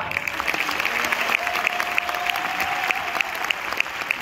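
A theater audience applauds a dance company at a PortAventura World Christmas show, giving steady, dense applause that carries on evenly through the clip with no talk on top.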